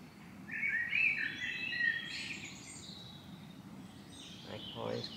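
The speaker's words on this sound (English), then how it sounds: "Tons of birds and stuff." Birds chirp and warble around an English fishing pond, bright calls drifting over a low murmur of background noise from a moderate distance.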